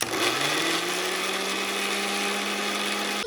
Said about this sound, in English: And you want to blend it.